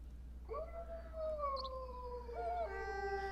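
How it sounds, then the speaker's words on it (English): Wolf howling in the game WolfQuest: a long, clear tonal howl that slides slowly downward, then a second rising howl joins near the end, heard fairly close and alone over a low steady hum. "So we'll go ahead and we'll do a howl."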